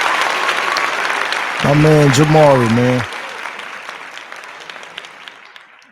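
Studio audience applause on a podcast set, a steady wash of clapping throughout, with someone speaking briefly over it in the middle.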